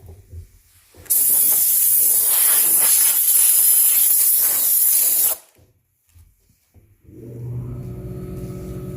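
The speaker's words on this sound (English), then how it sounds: "Air compressor started up again." A loud, steady blast of compressed air from an air compressor hose while servicing a country clipper mower, lasting about four seconds, then a lower mechanical hum as the compressor motor starts up.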